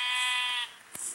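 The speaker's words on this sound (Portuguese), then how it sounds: "Aqui, minhas ovelhinhas bonitas." A sheep gives a single clear, nasal bleat lasting over half a second, followed by a short sharp click and then quiet, with no voices.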